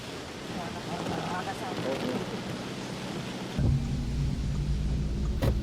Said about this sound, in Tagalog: Connie, sa ulan pa rin gumising ang mga taga Baguio City at ilang lugar dito sa Benguet na hanggang ngayon ay inuulan pa rin